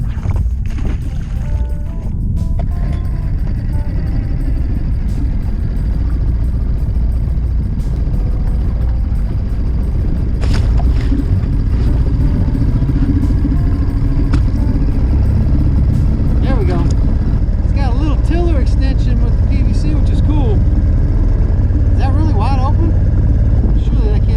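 A small outboard motor on a solo skiff runs steadily close by, a loud buzzing drone with wind and water noise, and a voice talks over it intermittently.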